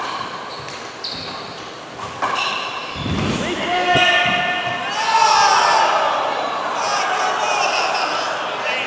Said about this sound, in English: you hear the crowd totally disagreeing with that